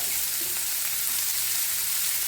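Sliced onions and green chillies sauté in hot oil in a pan, giving a loud, continuous hiss of frying that stays even throughout.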